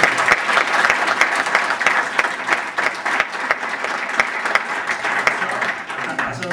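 Audience applause at a Catalan theatre dramatization and round-table event, a steady dense wash of many hands clapping that holds evenly throughout, with faint voices beneath.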